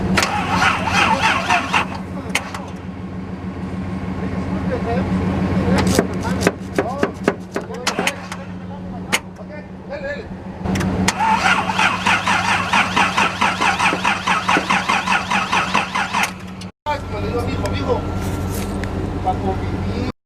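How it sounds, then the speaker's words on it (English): Datsun 280Z engine with leaking fuel injectors cranking and trying to start, heard as repeated rhythmic starter churning in close bursts, with a brief break and talking mixed in. "to at least have a start and see if it cranks"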